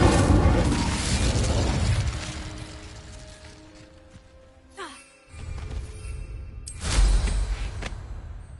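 The Incendio fire spell is cast in Hogwarts Legacy, a roaring whoosh of flame that fades, then a brief pop and a second fiery burst later on.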